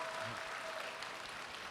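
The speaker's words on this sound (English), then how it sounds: "but please clap." Soft, distant audience applause filling the space in an even wash, faint and steady throughout without any distinct voices.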